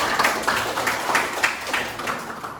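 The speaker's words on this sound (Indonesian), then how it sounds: "Tepuk tangan untuk kita semua." A class of pupils claps together in a classroom, a dense burst of hand claps with a few rhythmic peaks, close and sustained for a few seconds.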